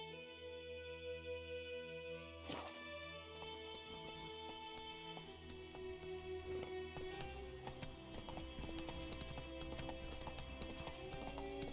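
Horse hooves clip-clopping in a steady trotting rhythm in the video game Witcher 3, close and clear over a continuous music bed, with a brief sharp hit early on.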